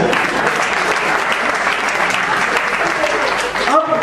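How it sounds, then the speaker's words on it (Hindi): Loud, dense applause from an audience at a Hindi comedy poetry show, a sustained roar of many hands clapping at once that tapers off in its final moments as talk resumes. "तो आप अपने लिए एक बार तालियां बजा सकते हैं"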